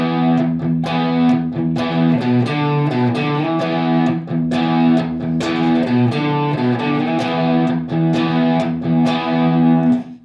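Distorted electric guitar playing a riff in the style of Led Zeppelin's Whole Lotta Love, single notes mixed with power chords, loud and steady with rhythmic plucked attacks throughout, no talking.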